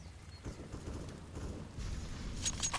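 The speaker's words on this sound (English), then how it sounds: "Footstep just made." Footsteps in a Counter-Strike match patter in a quick irregular rhythm, faint and somewhat distant under low game ambience, with a few bright clicks near the end.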